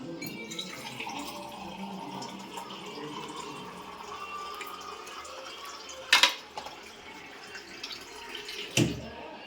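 Water pours steadily into a pot of mutton sambar with a soft, continuous splashing, joined near the end by a couple of sharp metallic clinks close by.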